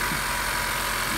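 The VTEC inline four-cylinder in a 2015 Honda Accord LX sedan idles, a steady, even hum with a broad hiss on top and no changes across the short stretch.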